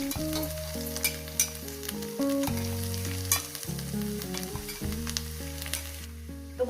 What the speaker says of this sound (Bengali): গ্যাসটাকে আমি এখন লোতে করে দিয়েছি একটু লোই থেকে একটু বাড়িয়ে দিয়েছি এবার এটাকে ভেজে নেব